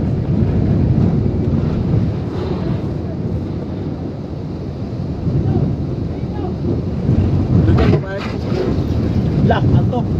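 Typhoon Odette winds buffet a truck, a loud, continuous roaring rush with gusting swells and rattling, while people talk and shout inside the cab.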